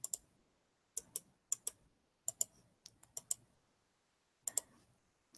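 Someone types on a computer in a quiet room, producing sparse, close, crisp keystroke clicks in small uneven clusters separated by pauses, with no talking.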